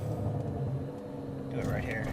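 A Kia Stinger GT in sport mode gives a steady low engine rumble from inside the car, with a rising tone near the end as it begins to pull harder.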